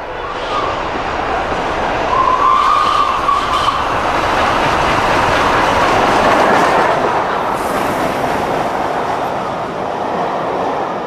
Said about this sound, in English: Flying Scotsman was running easily through Grakely